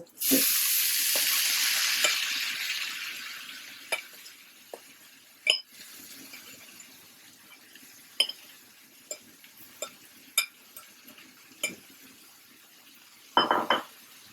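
Onions fry in a pan as vinegar is poured in, setting off a loud, bright sizzle that slowly dies down, broken by scattered clinks and scrapes of a utensil against the pan.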